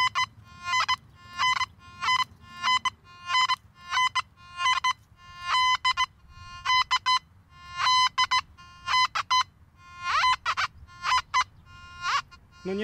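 Makro Gold Kruzer metal detector in All Metal mode giving tones over a nail board test, with repeated clear electronic beeps in short bursts, some rapid and stuttering, loud and close over faint background noise.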